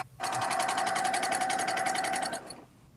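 A sewing machine stitching a winter top runs in one steady, fast burst of rapid even needle strokes for over two seconds, close and fairly loud, then stops abruptly.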